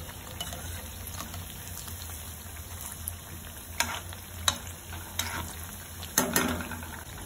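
Cheese bread roll frying in oil in a pan, a quiet steady sizzle with a few sharp pops and spatula clicks, close and without speech.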